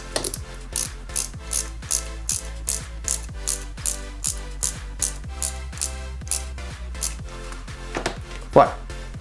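A screw driven into the rear of a Lancia 037 scale model kit by IXO Collections, heard as a steady run of about twenty evenly spaced ratcheting clicks, close and clear over a faint continuous background hum.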